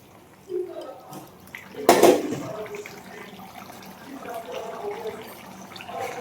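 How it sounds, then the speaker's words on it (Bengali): Fish curry made with rupchanda fish is poured from a pan into a bowl, a short gush of liquid splashing in the middle, followed by a softer trickle and quiet movement. "মাছের তরকারিটা আমি এখন গামলাতে ঢেলে নেব।"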